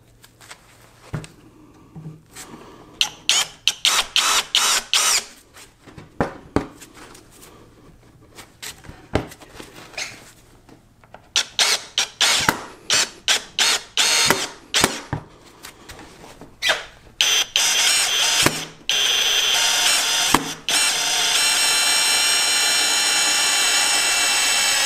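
A Greenworks cordless drill driving a 3.5 inch screw into wood, with a string of sharp close clicks and short bursts of motor whine, then a sustained loud drilling run at the end.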